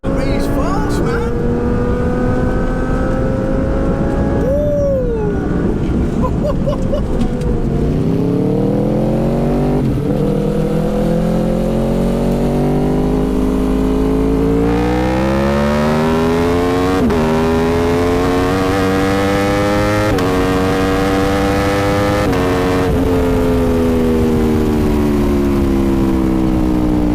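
Twin-turbo 800 hp Audi R8 racing a 220 hp Aprilia RSV4 motorcycle: loud engines rev hard and climb in pitch through repeated gear changes, with the notes sweeping upward together for the whole run.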